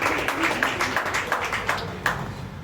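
A small audience claps at a company recognition ceremony, a steady patter of hand claps with one sharper burst near the end, moderately close and without talk.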